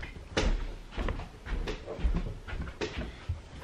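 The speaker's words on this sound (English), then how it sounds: "Close the basement door." A basement door closing inside a house during a bedroom carpet renovation, heard as several knocking thumps and rattles spread over a few seconds, fairly close.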